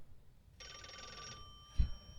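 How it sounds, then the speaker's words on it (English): A telephone bell rings in one short, bright burst, fairly quiet in a still room. A faint lingering tone follows, then a soft thump near the end. "The phone is calling you."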